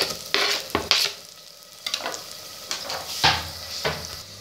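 Close sizzling of spices and tomatoes frying in a clay pot for dal, with intermittent scraping stirs at an uneven rhythm.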